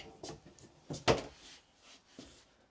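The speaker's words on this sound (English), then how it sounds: "These drawers are all the same, so I'll open up just one." A bathroom drawer in a 2025 Keystone Montana 3761FL fifth-wheel RV slides open with a single close, distinct thump and rattle, surrounded by a few softer handling clicks.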